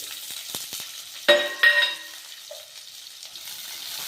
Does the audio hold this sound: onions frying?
yes